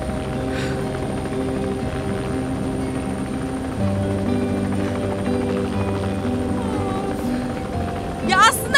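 A helicopter's steady rotor thump and engine drone fill the cabin, constant and close, with a brief rattle near the end.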